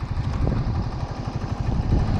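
A tractor engine chugs with a steady low, throbbing rumble, close and continuous throughout.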